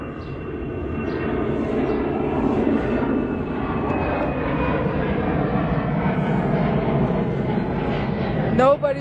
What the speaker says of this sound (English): Yeah, that plane is way too low.